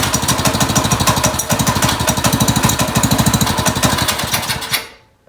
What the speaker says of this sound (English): And we're gonna hear this thing roar to life